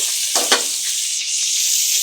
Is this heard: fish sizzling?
yes